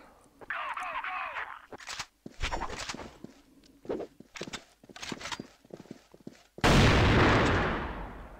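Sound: AWM sniper rifle shots in the video game CrossFire

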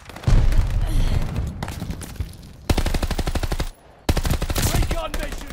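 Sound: Thompson M1928 submachine gun firing in Call of Duty Vanguard video game

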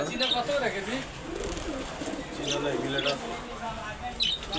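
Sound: pigeons cooing in a pigeon shop

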